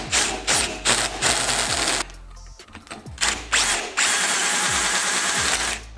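A power drill boring a hole through a turbo turbine housing, whirring in short loud bursts with pauses between them and a brief quieter gap midway.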